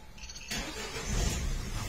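A cold Peugeot 308 1.6 HDi diesel starts for the first time: a loud burst of cranking that catches halfway through and settles into a rough, rumbling run, with no talk.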